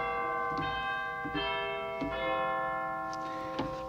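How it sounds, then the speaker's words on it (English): Deep, bell-like chime tones from a pipe organ's chimes stop strike a few times at a slow pace, each ringing out with a long shimmering decay. "there's the chimes, there's the big chimes."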